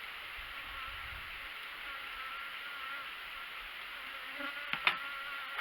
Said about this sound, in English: I'd really like to get these bees off of here.